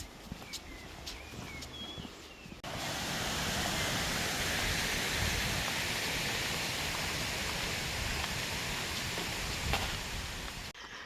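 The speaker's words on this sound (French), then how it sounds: "il commence à pleuvoir" Steady rain begins falling outdoors on the final stretch of the Camino pilgrimage to Santiago de Compostela, a broad hiss that starts abruptly and then holds loud and even, with no talk.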